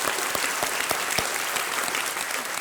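Studio audience applause on the quiz show Kaun Banega Crorepati, loud dense clapping with sharp individual claps standing out, steady and close throughout without talk.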